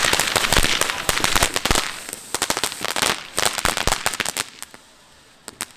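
Firecrackers and fireworks go off outdoors in rapid, irregular bursts of sharp cracks and pops, dense at first and then thinning out toward the end.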